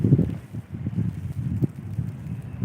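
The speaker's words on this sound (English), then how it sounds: "that wind's really starting to pick up now" Strong wind blows across an outdoor microphone, producing a loud, continuous low rumble with gusty surges and buffeting.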